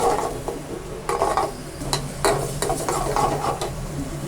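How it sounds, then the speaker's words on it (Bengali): Chopped onions in soybean oil are stirred in a pot with a utensil, giving repeated scraping and clinking strokes over a faint sizzle, close and fairly busy. "পেঁয়াজ কুচি দিয়ে দিলাম সয়াবিন তেল দিয়ে দিচ্ছি বেশ কিছুক্ষণ ভালো করে নাড়তে থাকবো"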